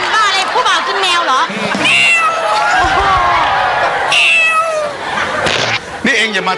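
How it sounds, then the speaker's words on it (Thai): A cat meowing repeatedly in a noisy Thai television studio setting, with high wavering cries mixed among overlapping voices and crowd sounds throughout. "ทำไมแมวทำไมแมวถึงนอนเก่งจังเลยอ่ะ"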